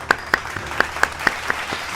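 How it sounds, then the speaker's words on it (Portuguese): Hand claps in a tabletop role-playing session, about eight crisp, evenly spaced claps from what sounds like one or a few people, close and steady. "Palmas para o Sandoval."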